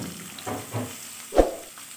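Mixed vegetables frying in a pan with garlic and chillies make a soft, steady sizzle, broken by a few dull thuds as more pieces drop in, with no one speaking.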